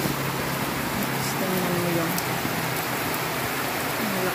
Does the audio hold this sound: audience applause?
no